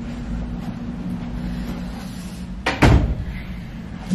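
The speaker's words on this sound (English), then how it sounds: "let me shut the door" A door is shut indoors with one solid thud and a short rattle, heard close over a continuous low background hum with no talk.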